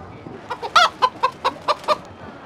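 A chicken in the PC game Gold and Glory: The Road to El Dorado gives a burst of clucks, about seven short, evenly spaced calls, close and clear with no talk over them.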